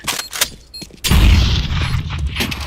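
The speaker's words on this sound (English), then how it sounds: "Grenade." Grenade blast in a first-person shooter game: a sudden deep boom about a second in, followed by a sustained low rumble, preceded by sharp clicks and crackling gunfire.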